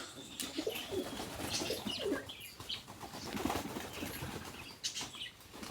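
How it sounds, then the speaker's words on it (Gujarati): A flock of pigeons flaps its wings in bursts while low coos run underneath, close and continuous, with no voices. "આગળ બધા કબૂતર આવી જાય છે"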